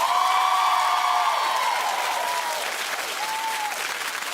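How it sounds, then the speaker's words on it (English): A studio audience at a daytime talk show claps steadily and loudly for several seconds, a dense, even wash of hands with a few cheers, easing slightly toward the end. "Clap if you think that this is a fun outfit."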